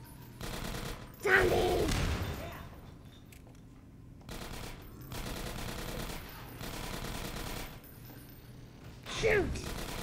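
Gunfire against zombies in the video game Half-Life comes in broadband bursts over roughly ten seconds, with a person talking and exclaiming over the shots.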